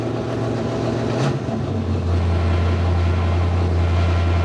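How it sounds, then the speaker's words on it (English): An old Dodge Dart V8 with a four-speed gearbox runs loudly just after starting. A deep, steady rumble settles into an even idle after a brief shift in tone early on. "God, it sounds like a race car."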